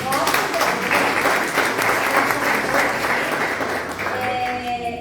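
An audience at a talk on condominium accessibility gives sustained applause as a guest is welcomed to the stage, continuous clapping with a few voices mixed in.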